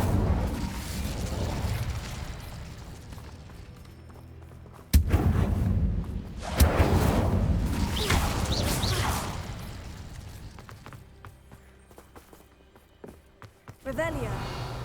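Incendio fire spell cast in the video game Hogwarts Legacy: a sudden loud burst and rush of flame near a Thestral nest, a second swelling whoosh, then a fading crackle with a voice speaking briefly.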